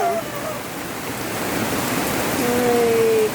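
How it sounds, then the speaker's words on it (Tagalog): High floodwater rushes past in a loud, continuous roar of churning water that holds steady and close throughout, with no pause or break. "Ay, grabe ang baha."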